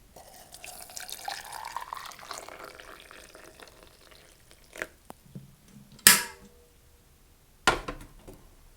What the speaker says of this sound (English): We're just going to pour in our hot water.